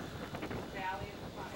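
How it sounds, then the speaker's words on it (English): Strong wind buffets the microphone with a steady low roar and rushing noise throughout, fairly loud and close, with no clear voices, outdoors at the Valley of Fires lava flow. "it is really windy"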